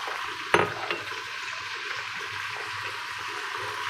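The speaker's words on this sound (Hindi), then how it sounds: "मैं थोड़ा सा पानी डालूंगी ताकि जले ना।" Water poured into a hot cooking pan holding garlic cloves and a piece of ginger for a chicken kofta gravy, giving a steady loud sizzling hiss after a brief sharp clatter near the start.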